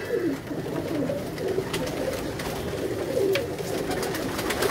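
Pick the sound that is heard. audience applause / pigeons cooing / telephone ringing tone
pigeons cooing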